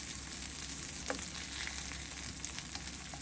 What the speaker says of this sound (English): I'm just gonna take it and I'm gonna flip it over